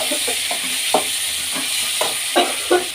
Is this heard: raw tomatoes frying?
yes